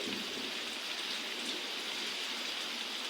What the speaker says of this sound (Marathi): पण आज भरपूर पाऊस आलाय